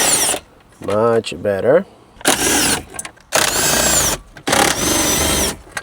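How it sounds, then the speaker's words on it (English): An impact drill removing screws from a Toyota Corolla dashboard, in loud repeated whirring bursts with short gaps, close up, after a brief spoken remark. "here we are back at it with the impact drill"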